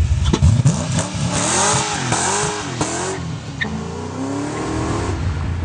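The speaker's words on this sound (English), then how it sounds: "Sounds like a 5-liter Mustang." A Mazda RX-7 engine rumbles and revs up and down nearby, pitch rising and falling with each throttle blip over a steady idle.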